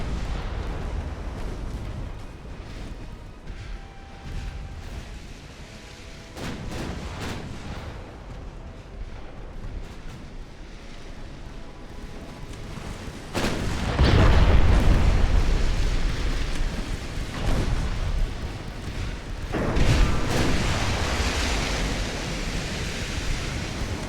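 Naval artillery fire in the video game Ultimate Admiral: Dreadnoughts comes as heavy booming blasts, the loudest clustered in the middle and late part of the clip. They sit over a steady roar of sea and wind.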